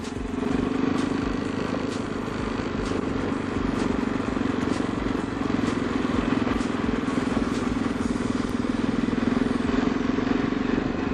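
Motorcycle rolling through Berlin city streets toward Alexanderplatz, a steady loud engine drone with clattering mechanical noise and wind throughout, up close and constant for the whole stretch.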